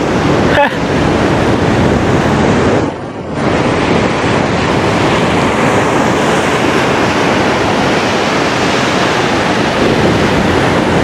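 Sea water washing through a tidal pool at Dalugan Beach, a loud, constant roar of surf close by, heavy with wind buffeting the microphone and one short dip midway.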